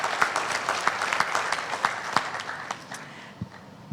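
Congregation at a Sunday service applauding: a dense patter of many hands clapping, with sharper individual claps standing out, fading over about four seconds; no distinct cheering voices stand out.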